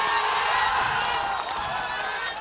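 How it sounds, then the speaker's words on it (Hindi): Studio audience applause and cheering greeting panel guests on a Hindi TV political debate show, a dense steady wash of clapping throughout. "तालियों के साथ स्वागत कीजिए"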